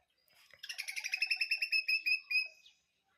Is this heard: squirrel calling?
yes